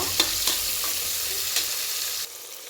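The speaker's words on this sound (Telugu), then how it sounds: "ఈ మాత్రం టమాటో వేగితే చాలండి" Tomatoes fry in hot oil in a pan, a steady bright sizzle with a few scraping stirs of a utensil, close and continuous before the sizzling drops away near the end.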